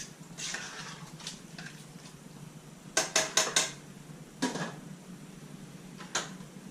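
Metal lid clattering onto a pot of simmering chili on a stovetop, a quick run of sharp close knocks and rattles among quieter kitchen clinks.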